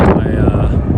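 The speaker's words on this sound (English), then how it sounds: "it's gotten windy" Strong wind buffeting the microphone at an evening wildfire in California, a loud, rumbling low roar filling the whole moment with no clear gaps.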